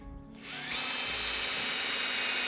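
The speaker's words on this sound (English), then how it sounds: "that drills the pilot hole so that the screw doesn't split it" Power drill with a combined pilot and countersink bit boring into wood, a brief startup thump and then a loud, steady high whine that revs up and holds close and alone.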